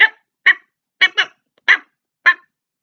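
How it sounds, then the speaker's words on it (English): A dog barks six times at a steady pace, the sharp barks close and loud with short silences between them and no other sounds. "the dog, if you have one in your house, will bark"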